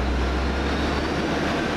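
An Arriva Trains Wales diesel train runs at Rhyl station, a loud, steady low rumble and broadband roar with no breaks, close by.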